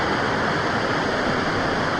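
A three-tier waterfall roars in a steady, loud, dense wash of rushing water, close by and unbroken, with no voices over it.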